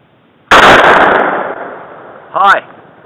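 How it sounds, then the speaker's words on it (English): A single loud, sharp gunshot from a Mosin rifle at close range, with a rumbling decay lasting over a second, followed by a short metallic clack of the bolt action. "Check before you shoot. Then you can shoot."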